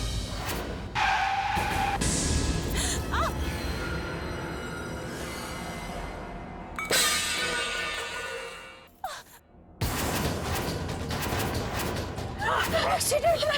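A car skids in a road accident in a Hindi TV drama, with a drawn-out roar of tires and engine, a sudden drop to near silence, then loud noise again, while voices talk throughout.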